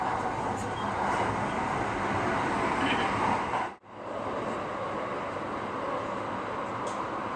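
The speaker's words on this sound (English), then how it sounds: "In a tunnel, trains passed each other." Marine Liner train running through a tunnel on a new, nearly straight line toward Kojima, passing an oncoming limited express train; a steady loud rumble and roar fills the whole stretch, with a brief sharp dip midway as the other train goes by.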